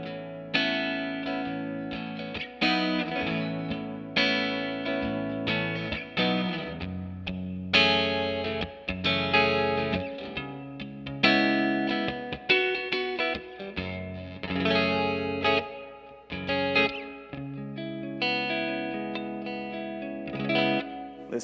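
Electric guitar played through a Fender MTG tube distortion pedal and Tre-Verb reverb pedal, dense distorted chords and riffs ringing out with a lush reverb wash, loud and continuous with no talking.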